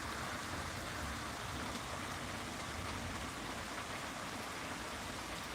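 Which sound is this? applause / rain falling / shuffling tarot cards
rain falling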